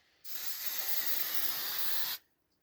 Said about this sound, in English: And I might as well give it one last spray before winter.